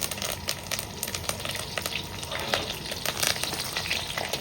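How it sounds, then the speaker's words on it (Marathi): Garlic and curry leaves frying in hot oil in a pan, a close, steady crackling sizzle with sharp pops and spits throughout. "आता छानपैकी असा लालसर होईपर्यंत लसण चांगलं तळू घ्यायचा"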